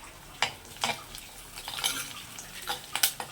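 A spoon scrapes and clinks against a pan while curry with cocum is stirred, several light metallic knocks at irregular intervals over a soft sizzle, close and fairly quiet.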